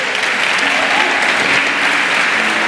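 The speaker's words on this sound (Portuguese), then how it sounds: "Quero que a igreja aplauda Jesus pela vida desses irmãos." A church congregation claps steadily and loudly, a dense wash of applause with no pauses.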